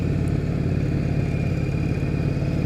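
A 1998 Yamaha Virago XV1100 V-twin motorcycle idles slightly high, with a close, loud, steady throbbing rumble that stays unchanged throughout.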